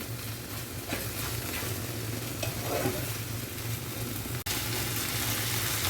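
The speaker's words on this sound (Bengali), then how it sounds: "এটা তলার থেকে এরমভাবে নাড়তে হবে" Lote fish fried down until dry in a pan, a continuous dense sizzle with scraping stirs from the bottom of the pan, close and steady, with a faint low hum underneath and no talking.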